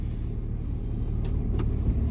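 A pickup truck rolls forward slowly with a steady low engine rumble and road noise, close and continuous, with no one talking.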